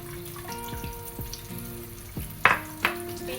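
Tamarind water is squeezed into coconut milk in a pan for a brinjal curry, giving a soft sizzle and trickle with a couple of sharp utensil clinks near the end.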